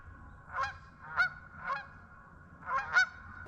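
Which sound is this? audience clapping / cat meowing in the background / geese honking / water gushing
geese honking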